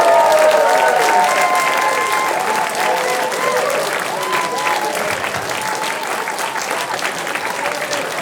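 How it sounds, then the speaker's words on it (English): Applause from a comedy club audience after a stand-up set, loud and sustained clapping with some crowd noise and a voice talking faintly underneath. "And I have a huge round of applause for Nicholas Santos!"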